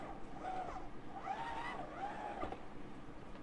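A car engine in the Assetto Corsa racing game, revving up and down in a steady drone with rising and falling pitch sweeps as the car is driven for drift practice.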